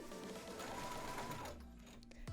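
A sewing machine runs a short burst of understitching along a facing seam, a quick close whir of rapid stitches that stops abruptly near the end.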